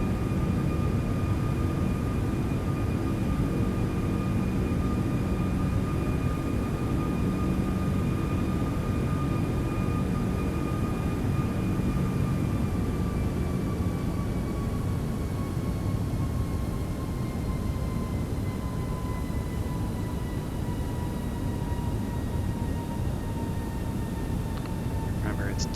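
Jet engines of a Toliss A340-600 airliner at takeoff thrust in a flight simulator, a steady loud roar with a sustained tonal whine slowly falling in pitch, continuous throughout without pause.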